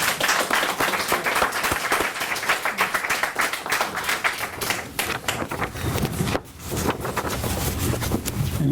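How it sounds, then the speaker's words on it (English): A conference audience applauding at closing statements, dense continuous clapping from many hands that briefly dips before swelling again, fairly loud and close. "We should give a round of applause."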